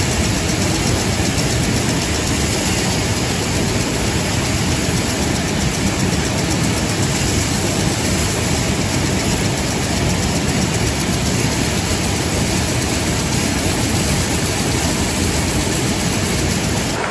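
A powerful irrigation water pump engine runs steadily and loudly throughout, a dense unbroken roar close by while watering a carrot field.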